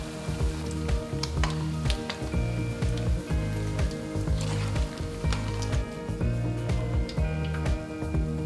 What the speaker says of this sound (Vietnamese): Lần này thì mình sẽ chiên cá nó giòn hẳn này, cá có màu vàng.